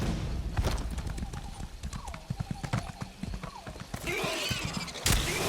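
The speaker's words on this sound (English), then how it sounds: "I'm riding a horse on a tree root." Hooves clip-clop in a quick, uneven rhythm as a horse is ridden over a tree root in a fantasy video game. A brief whinny breaks through, and ambient game sound swells near the end.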